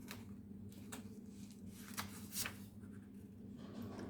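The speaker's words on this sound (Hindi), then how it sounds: "तो मैं थोड़े से कार्ड्स निकाल के देखती हूँ।" Tarot cards are shuffled and drawn by hand in a quiet room, giving soft papery flicks and riffling swishes in short bursts over a low steady hum.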